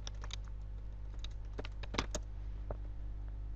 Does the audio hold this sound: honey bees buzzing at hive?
no